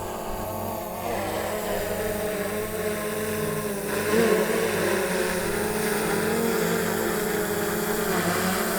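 DJI drone flying in to land, a steady buzzing motor whine that grows slightly louder midway and holds, continuous and fairly close.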